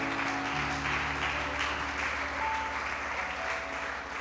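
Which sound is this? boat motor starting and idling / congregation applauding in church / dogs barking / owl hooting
congregation applauding in church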